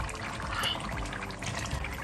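Already fried chicken gizzards being poured into a large pot of sauce for a party batch of gizdodo, a soft, continuous wet pouring and sloshing, quiet and close, with no talking.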